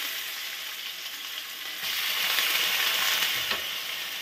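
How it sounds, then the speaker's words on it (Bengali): Chopped cucumbers hit hot oil in a kadai after cumin seeds were tempered, giving a steady frying sizzle that swells louder partway through, with a faint clink near the end and no talking. "এবার শশাগুলো এই তেলের মধ্যে আমি দিয়ে দেব।"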